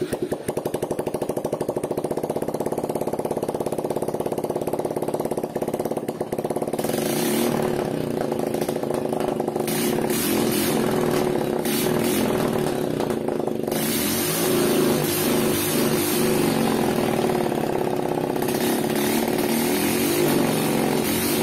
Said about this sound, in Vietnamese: Test lỗ động cơ Suzuki 110cc này.